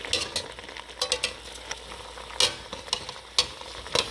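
Pot roast pan on the heat while stuck browned bits are scraped loose during deglazing, with soft sizzling and scattered sharp scraping clicks and taps, close and fairly quiet, no talk.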